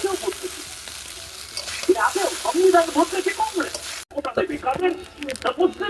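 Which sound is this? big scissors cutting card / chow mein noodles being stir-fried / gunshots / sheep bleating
chow mein noodles being stir-fried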